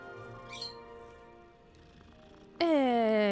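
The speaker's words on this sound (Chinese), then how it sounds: "又是猫咪，看到猫咪就要录一下。" A cat in the game Hogwarts Legacy gives a single loud, drawn-out meow at the end, after a quiet stretch of game background sound with a brief chirp early on.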